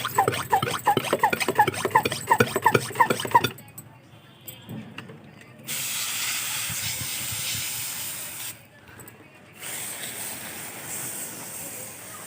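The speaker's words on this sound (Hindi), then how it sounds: "तो इसी तरह से सभी में आज ये फंगीसाइड वाला स्प्रे भी कर लेना है मुझे।" A hand sprayer mists fungicide over garden plants, including adenium seedlings, giving long breathy hissing bursts separated by short pauses, with birds chirping faintly early on.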